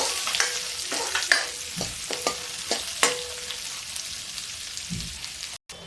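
Tadka tempering for black urad dal sagpahita sizzles steadily in a pan of hot oil with spices and onion, with intermittent spoon clicks and scrapes from stirring over the constant fry hiss. No one speaks.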